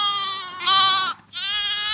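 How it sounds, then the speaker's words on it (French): A sheep-bleating sound effect plays as a sustained, wavering bleat. A louder second cry follows, then a short pause and another drawn-out bleat, all close and prominent. "j'ai passé un bon moment à écouter des bruits de moutons."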